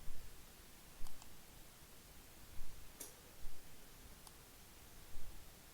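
A few sharp, faint mouse clicks on an OK button in a dialog box while setting up SQL Server Express and a database. They come spaced apart over a low steady hiss, with no talking.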